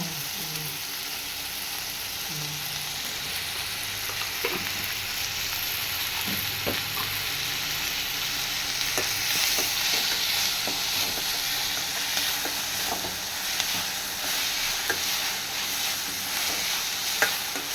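Prawn thokku sautéing in a pan for a home Sunday meal, a steady broadband sizzle with occasional stirring clinks and scrapes running continuously at close range, no talking.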